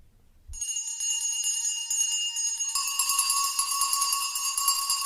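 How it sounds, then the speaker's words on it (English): Many house bells start ringing at once in an audio drama, a bright sustained jangle that swells louder partway through and keeps going without pause. "Every bell in the house must be ringing."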